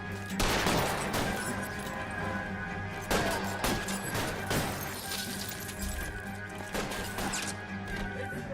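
Repeated gunshots ring out in a shootout in the L.A. Noire video game, sharp cracks arriving in irregular bursts over a steady background hum, some sounding like impacts and shattering.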